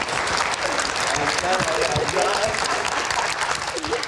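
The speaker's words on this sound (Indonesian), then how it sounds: "Oke, kita berikan tepuk tangan dulu Bang Roni." A room of people claps for a guest named Bang Roni during a talk-show discussion, a dense, continuous burst of applause holding steady and fairly loud throughout, with crowd murmur mixed in.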